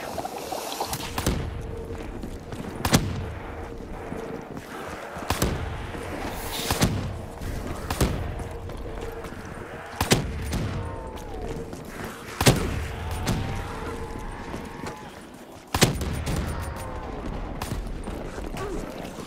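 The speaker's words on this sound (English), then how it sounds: "the nice thing about the Apothecan Servant is that it has no delay when you shoot" The Apothicon Servant wonder weapon fires repeatedly in Call of Duty Shadows of Evil, each shot an instant sharp crack recurring every couple of seconds over a busy, humming game background.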